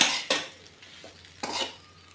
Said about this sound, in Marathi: तर आता आपण हे व्यवस्थित असं कूट टाकल्यानंतर मिक्स करून घेऊया